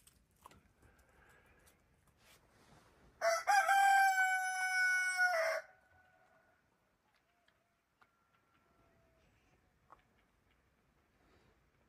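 Near the egg-laying spot at a rural farmhouse in Xiangxi, a hen lets out one loud, drawn-out cackling burst of about two seconds, then things fall quiet apart from faint scattered ticks.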